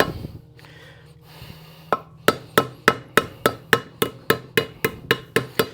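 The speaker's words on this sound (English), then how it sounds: "we're going to seat that now, right, with our ballpoint hammer." Sharp metallic ball-peen hammer taps seat a wheel-bearing grease seal in a steady, evenly spaced series, about a dozen blows, close and fairly loud after a quieter opening.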